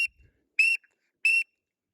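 A duck call whistle blown hard, the Matt Pierce whistle, lets out two loud, shrill, piercing blasts in quick succession right at the microphone, with silence between.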